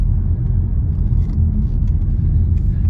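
An Audi A6 rolls along the road, a steady low rumble of engine and tyre noise filling the cabin with no break or voices.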